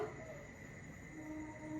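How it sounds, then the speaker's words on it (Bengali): Crickets chirp in a steady, faint rainy-night chorus, with a distant train and its horn blending in as a low, far-off hum. "এখন আবার ওই ট্রেনের হর্নটা যোগ দিল"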